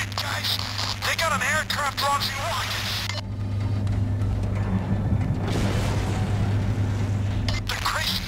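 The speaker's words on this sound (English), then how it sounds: "They're crazy! Shooting up the building with missiles!" Missiles slam into a building during a Payday 2 heist, a dense sustained rumbling barrage of blasts and debris that swells loudly after a few seconds, with talk over the start and a steady low hum underneath.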